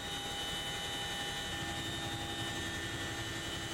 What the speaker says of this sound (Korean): 시끄러운 엔진음이 600m 상공에 머물자